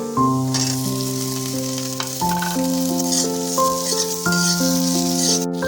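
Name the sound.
tomato, onion and capsicum frying in pan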